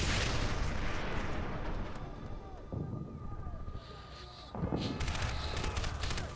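Crysis Warhead gameplay gunfire: dense, sustained bursts of weapon fire and rumbling blasts fill the scene, easing briefly midway before picking back up loud, with a voice faintly under the combat.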